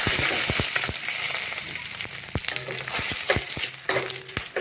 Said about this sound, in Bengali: তেল রেডি এখন আমি দিয়ে দেবো সম্বারগুলো উপকরণ দিয়ে দিলাম